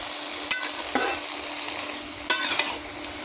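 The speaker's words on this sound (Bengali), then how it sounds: "দিয়ে আলু বেগুন আমি একটু লাল লাল করে ভেজে নেব।" Potatoes and eggplant frying in a pan make a soft, steady sizzle, broken by a few sharp spatula scrapes and clinks at irregular moments; no talking.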